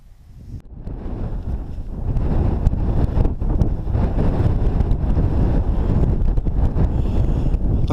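Strong wind buffets the microphone on an exposed hilltop at Crookstone Knoll on Kinder Scout in the Peak District, a loud, continuous roaring rumble that builds after the first second and stays heavy.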